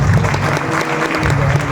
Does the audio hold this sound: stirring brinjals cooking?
no